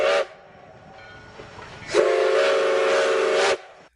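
Steam train whistle blowing two loud, sustained blasts, a short one at the start and a longer one after a pause, with a hissing rail backdrop between them.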